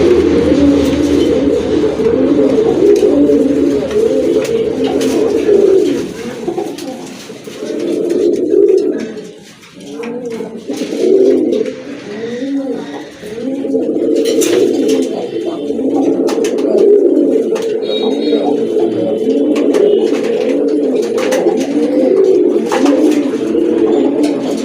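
A male and female pigeon pair coo together, with rhythmic, rolling throaty calls repeating steadily for a long stretch, close and fairly loud, with faint background noise and brief lulls.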